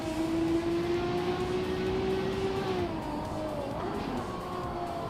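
A 1970 Ferrari 512S race car engine in a racing game drones at a steady high pitch, then drops and shifts through a gear change around the midpoint before settling again, loud and close, with no talking.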